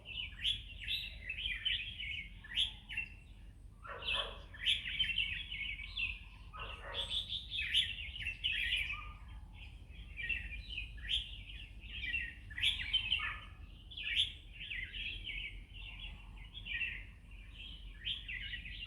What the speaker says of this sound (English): I hope you can hear all the birds.